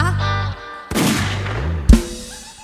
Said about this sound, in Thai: เสียงปืนยิงขึ้นฟ้า